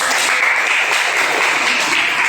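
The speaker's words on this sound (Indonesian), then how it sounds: "berikan aplaus" Brief burst of classroom applause as students clap for a correct answer about Islamic history, loud and continuous, filling the room.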